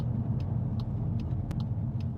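A Volkswagen Golf GTI engine hums and rumbles steadily while driving, with faint clicks and ticks scattered over the low continuous drone.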